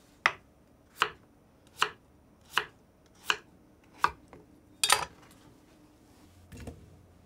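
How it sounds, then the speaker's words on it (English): A kitchen knife cuts cooked potatoes into cubes for mashed potatoes: six evenly spaced, crisp chops land on a cutting board about once per second, then a louder double knock and a softer final thud, with no voices. "So I just cut them into cubes."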